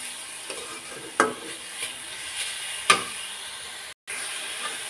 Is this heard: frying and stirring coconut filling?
yes